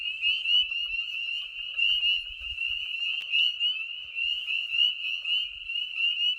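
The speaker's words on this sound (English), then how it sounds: "Got quite a few ornate coarse frogs here" Ornate chorus frogs calling in a dense, continuous chorus of rapid, high trilling peeps that pulse in waves, with faint low thumps underneath.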